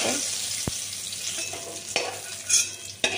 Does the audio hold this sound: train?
no